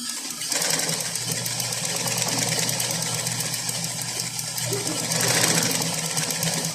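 A sewing machine stitching fabric, its needle running in a fast, steady mechanical whir with rhythmic clatter that swells slightly toward the end, fairly close and without talk.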